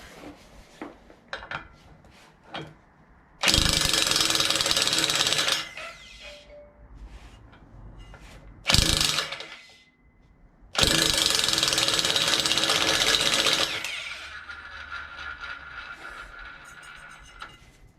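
Ratchet wrench on a nut of a Stels Leopard quad bike, close and loud, with long bursts of rapid clicking separated by quieter metallic taps and handling noises.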